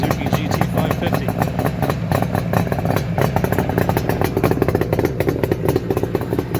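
A 1975 Suzuki GT550 two-stroke triple runs steadily near the microphone through polished stainless steel Higgspeed expansion chambers. The engine gives an even, rapid, rattly idle that keeps a constant level throughout, and no voices are heard.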